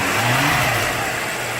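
A 2016 BMW M6 with an M TwinPower V8 of 560 horsepower and M Performance exhaust revs up loudly and close by, with a deep throaty rumble that rises and settles, no voices.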